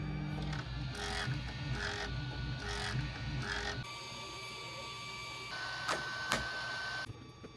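An Anycubic Kobra 4 3D printer prints a Benchy, its stepper motors whirring in steady tonal runs that shift pitch, with a constant fan hum and brief higher squeals.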